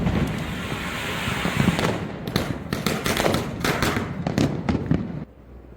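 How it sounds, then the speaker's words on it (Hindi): Diwali firecrackers pop and crackle in rapid irregular bursts against a dense background roar, then the noise drops off abruptly near the end. "इधर बच्चे लगे पड़े हैं अपने ज़ोर शोर से पटाखों में।"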